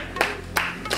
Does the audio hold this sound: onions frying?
no